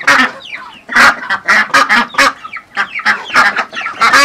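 Peking ducks on a duck farm give loud, close, rapid overlapping quacks and honks in quick bursts, with a whole flock calling over one another almost without pause.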